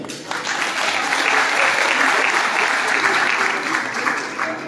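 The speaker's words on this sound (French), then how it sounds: "Merci d'applaudir Madame Moutita Jamalilei," Applause fills the hall at a ceremony awarding merit scholarships to national baccalaureate laureates, a dense, even clapping that swells quickly and holds strong for several seconds.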